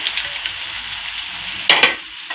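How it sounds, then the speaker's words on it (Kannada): Tomato and salt fry in hot oil, giving a steady close sizzle with a louder burst of stirring and crackle near the end. "ಇದೆಲ್ಲದನ್ನು ಸ್ವಲ್ಪ ಕಲರ್ ಚೇಂಜ್ ಆಗೋವರೆಗೂ ಈ ರೀತಿಯಾಗಿ ಎಣ್ಣೆಯಲ್ಲಿ ಹುರ್ಕೋಬೇಕು"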